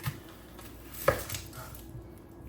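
A knife chops through a medium to large white onion on a cutting board, with one sharp, close knock standing out among a few softer taps in a quiet kitchen.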